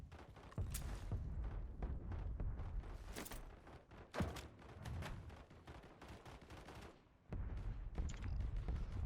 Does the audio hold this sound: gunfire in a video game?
yes